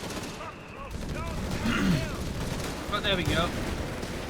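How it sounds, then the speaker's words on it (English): Small British 2-inch mortar tube firing amid a Company of Heroes 3 battle, with crackling gunfire and explosions layered through the scene while a commentator talks over it. "2-inch mortar there being utilised"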